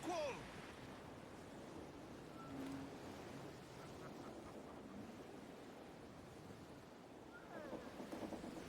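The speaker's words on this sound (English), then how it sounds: "Let's ride this squall!" A sailing ship ploughs through a squall at sea in Assassin's Creed IV Black Flag, with steady rushing waves, wind and creaking hull. The sound is moderately quiet and continuous, with a brief crew voice call at the start.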